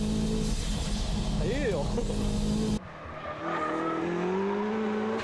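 A car with over 300 horsepower accelerating hard on a mountain pass, engine roaring loud and continuous with a rising pitch, while a voice speaks briefly over it.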